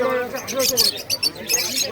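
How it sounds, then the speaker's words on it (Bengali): Fancy breed pigeons at a crowded pigeon market give soft coos and chirps amid people talking nearby. "কিছু ফ্যান্সি বিটের পায়রা দেখাচ্ছি"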